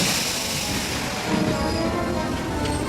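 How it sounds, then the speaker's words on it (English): Train cars rolling in reverse, a loud, steady rumble of wheels and carriages with faint high squeal, continuous and close. "Reverse the train."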